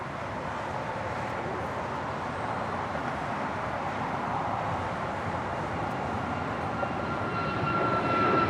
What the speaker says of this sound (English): Our next departure is Air Canada 776. We'll be departing to Montreal on a MAX 8.